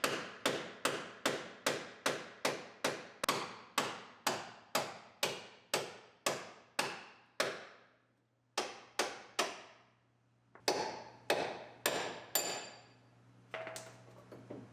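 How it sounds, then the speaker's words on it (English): A pitman arm puller at work freeing the pitman arm on a 1965 Ford Mustang during teardown, with a rapid series of about twenty sharp, ringing metal hammer strikes, evenly spaced then breaking into irregular blows, close and loud. "that's a pitman arm puller"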